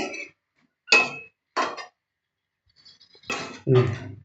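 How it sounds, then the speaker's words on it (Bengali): A lid is set on a pot of simmering jackfruit seeds, taro and stems, making a few short metallic clinks and scrapes with gaps between them, closing in a louder clatter as it settles. "এবার আমি ঢাকা দিয়ে দিচ্ছি"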